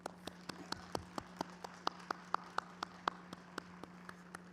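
Sparse, scattered hand claps from a small outdoor graduation crowd, about a dozen individual claps spread unevenly over a few seconds, faint and distant over a steady low hum.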